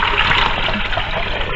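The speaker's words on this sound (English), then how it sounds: "And then we're going to take 7 1/3 cups of water" Water being poured for pickle brine, a loud close rushing and splashing stream that runs continuously for a moment and fills a container, with no talk over it.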